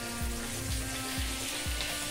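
Potatoes frying in a pan for aloo dum, spiced with cashews and raisins, give a steady sizzle with a low, regular bubbling rhythm repeating about every half second, close and alone without speech.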